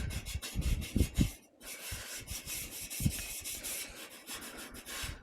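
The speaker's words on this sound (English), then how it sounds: "get that loose bits of rust and metal off and loose bits of paint off to expose the bare metal underneath" Steady abrasive scrubbing on bare metal, clearing loose rust and flaking paint, with uneven strokes and a few louder scrapes, close up and alone.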